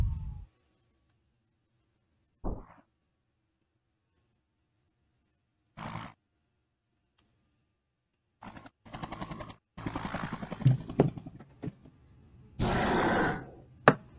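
Gunfire and rocket blasts hit Hulk in an animated fight, heard as scattered loud bursts, rapid automatic fire and roaring impacts separated by near silence.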